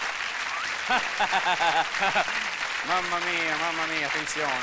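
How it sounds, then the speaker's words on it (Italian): A theatre audience at a comedy magic show in Milan claps steadily while someone talks loudly over the applause. "Un applauso più forte per Raffaella!"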